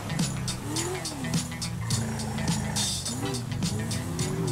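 A Honda NSX sports car drives in the video game GTA V, its engine revving up and down in quick, repeated swells beneath light background noise, with brief tire squeals mixed in.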